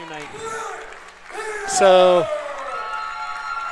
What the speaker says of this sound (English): she gets a standing ovation from the Norwood crowd here